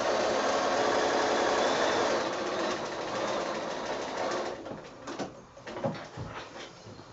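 Sewing machine running along the seam of a child's quilt, a steady close whirring drone that breaks into a few separate stitching bursts toward the end, no talk.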